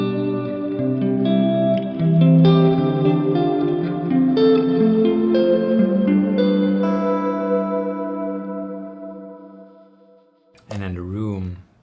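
Clean guitar chords ringing through a guitar reverb pedal in hall mode, spacious tails sustaining and slowly fading over several seconds, followed briefly by a voice at the end.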